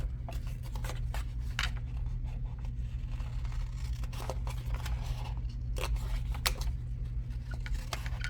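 Small scissors snip through a plastic shaker pouch in a series of crisp, irregular cuts close to the microphone, over a steady low hum.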